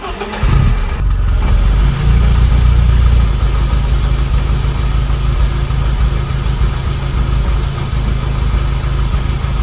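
A BMW E30 fitted with a 330i engine cranks and fires up, then settles into a loud, steady idle that rumbles on without a break.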